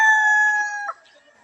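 A rooster crows loudly and close, one long harmonic call lasting most of a second before it breaks off, then quiet farmyard air with faint clucking from a flock of chickens kept among trees in hot, sunny weather.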